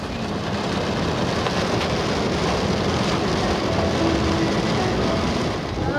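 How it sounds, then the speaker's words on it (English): Heavy rain heard from inside a moving vehicle on the way to an airport: a dense, steady roar of drumming and hiss that fills the whole clip evenly, loud and without pause. "It's raining a lot harder now as we're trying to get to the airport."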